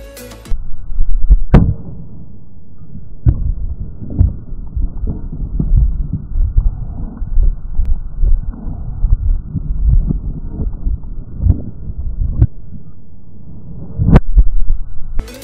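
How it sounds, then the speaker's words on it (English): Yamaha Banshee ATV engine with an aluminum air box mod and 310 main jets, running steadily with a loud, continuous low throb and a few sharper bursts near the start and end, with no talk over it. "I'm just gonna leave it on there, fire it up, see how it runs."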